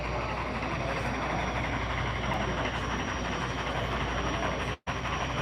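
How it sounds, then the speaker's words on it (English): A model narrow-gauge logging train rolls into a layout with a steady low mechanical rumble and hum, fairly faint and continuous and without speech, cut by a brief dropout near the end. "A nice little logging alley coming in to load up a train"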